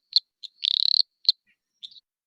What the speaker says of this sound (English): this is the eastern dwarf tree frog, Litoria phalax